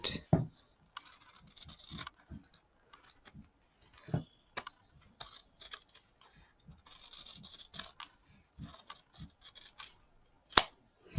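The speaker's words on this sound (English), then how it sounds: "So I've trimmed down all my seam allowance." Scissors trim the seam allowance of a small fabric ear bud pouch, giving sharp, close, irregular snips and scratchy cuts scattered across the stretch, quiet between strokes and with no talk.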